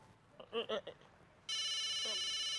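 A telephone starts ringing loudly partway through with a bright, trilling electronic tone, after a few short vocal sounds and a brief quiet pause.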